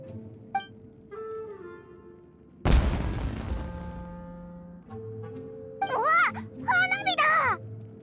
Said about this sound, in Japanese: え、あそこで何か爆発したぞ。 まさか花火。